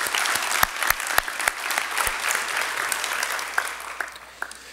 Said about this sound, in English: Another big round of applause for Garrett McDowell from St. Pius.